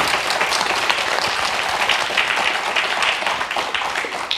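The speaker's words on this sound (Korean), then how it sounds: "우렁찬 박수 부탁드립니다" Loud, dense applause from a forum audience on filial piety and sijo poetry, sustained and even throughout with no pauses.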